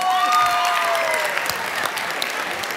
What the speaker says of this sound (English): Can y'all give me a better round of applause than that?